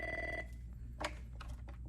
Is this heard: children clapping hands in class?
no